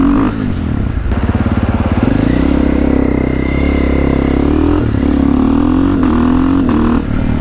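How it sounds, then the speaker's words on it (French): A motorcycle engine warming up idles steadily up close, a low throbbing rumble with slight rev fluctuations, running alone with no talking. "Je laisse chauffer la moto"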